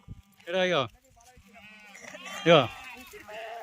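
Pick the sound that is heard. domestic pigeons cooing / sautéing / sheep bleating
sheep bleating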